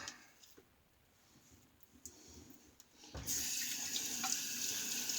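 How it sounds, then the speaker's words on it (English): A water tap runs into a sink as a firm shaving soap tub is rinsed, starting with a few faint clinks and handling noises before a loud, steady rush of water takes over near the microphone. "I rinse and clean the tub on a firm soap like this."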